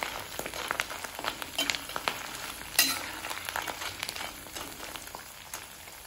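Okra frying in an iron pan with curry leaves and two or three red chillies, a steady close crackling sizzle with scattered sharp pops and stirring scrapes, no voices.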